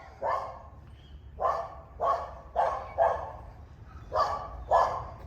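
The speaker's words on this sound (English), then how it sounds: "And now the guard dogs are out." Guard dogs bark in a Mexican city neighborhood street, about seven sharp barks spaced irregularly over a few seconds, moderately distant and fairly faint against a low background rumble.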